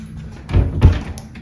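A hotel room drawer or refrigerator door is handled, giving two dull thuds in quick succession followed by a faint light click, close by in a quiet room.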